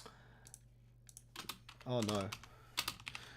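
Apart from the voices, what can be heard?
typing on a computer keyboard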